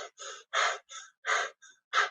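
A person demonstrates short, fearful breathing: seven quick, separate breath bursts in rapid succession, close and clear with no other sound.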